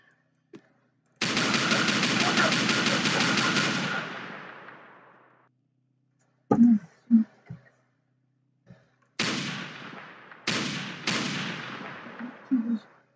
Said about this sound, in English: Activate instant ban gun.